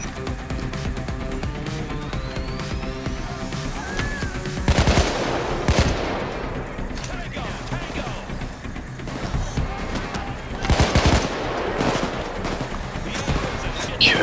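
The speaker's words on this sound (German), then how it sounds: "Ich höre jemanden schießen" Bursts of automatic gunfire and scattered shots in a PayDay 2 shootout, with loud volleys around five and eleven seconds over continuous game noise and music, while players talk throughout.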